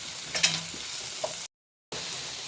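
Food sautéing in a pan while making tomato chutney, a steady sizzle with a few clinks of stirring, cut off briefly by a moment of silence before the sizzling resumes.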